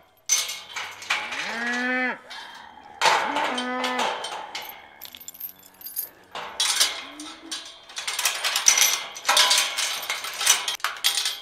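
Several cattle moo loudly and close by at a water tank at midnight, with long drawn-out calls between metallic clanks and rattles from the tank.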